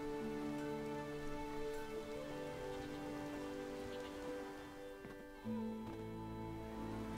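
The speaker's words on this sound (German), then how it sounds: "Aber wir müssen nicht im Regen stehen." Steady rain patters across a surface in the video game The Witcher 3: Wild Hunt, continuous and fairly quiet, with a layer of sustained tonal music running underneath.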